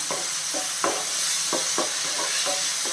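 A spoon stirs yogurt and spice powder into sautéed tomatoes in a hot pan, with a steady background sizzle and several distinct scraping strokes spaced through the mix.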